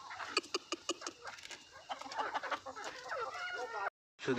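Several native hens, just let out, cluck in short bursts, fairly close, with some busy background noise; the sound cuts out briefly near the end.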